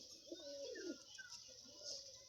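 Fancy pigeons, including Lal Dom and Malbai birds, coo softly in a pigeon house, with several low rolling calls in the first second and another near the end. A faint, distant chirp sits over a quiet background.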